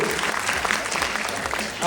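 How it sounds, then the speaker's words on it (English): A crowd at a Diwali community gathering gives a loud, dense round of applause for a student sponsor, continuous clapping filling the whole moment with some voices mixed in. "Round of applause for Jay Kalola, please"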